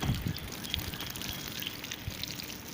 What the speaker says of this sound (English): I'm going to water some of this real quick.